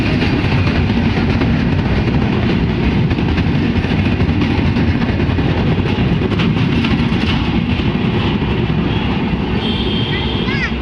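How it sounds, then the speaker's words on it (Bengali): Jahanabad Express train pulling out of a railway station in Dhaka, a loud, steady, close rumble of wheels and carriages that continues without a break. "Jehanabad express train Dhaka গ্যান্ডেজা railway station দিয়ে ঢাকা থেকে বের হয়ে যাচ্ছে"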